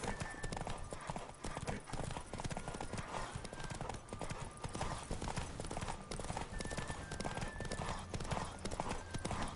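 Rapid, steady hoofbeats of a galloping horse in The Witcher 3: Wild Hunt run throughout, with faint tonal game sounds in the background.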